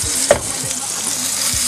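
A seasoned crocodile steak sizzles in a hot buttered pan, a continuous close fry with a couple of brief tapping knocks.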